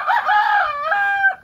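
A rooster crows once, loud and close, a long drawn-out call with no other sounds around it.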